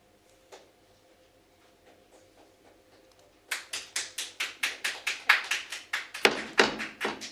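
Audience clapping at a board meeting bursts in after a near-silent stretch, a fast, steady run of crisp claps that grows louder and more insistent toward the end.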